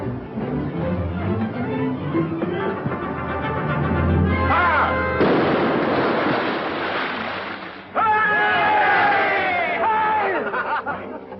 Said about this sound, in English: Pretty shot, Mr. Mercy.